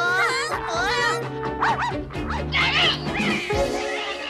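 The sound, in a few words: cartoon dog barking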